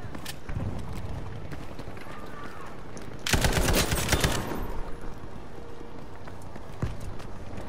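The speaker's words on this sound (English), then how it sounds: "where's that gunfire coming from?" Burst of automatic gunfire in the World War II shooter Battlefield V, a loud rapid rattle lasting about a second amid quieter game ambience, with a few fainter isolated shots before and after.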